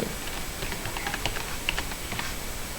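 Quick, light keystrokes on a computer keyboard while entering text in presentation software, a soft irregular patter of clicks under a faint steady hum, with no talking.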